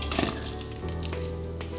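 Shredded potato twister fry sizzling in hot oil, a steady close hiss with a few light clinks of a utensil against the pan near the start.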